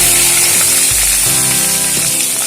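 Cumin seeds and green chillies drop into hot oil for a Bengali tempering, giving a loud, steady, close sizzle and crackle that fills the whole stretch without any talking.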